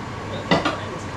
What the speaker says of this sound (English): You have to keep stirring.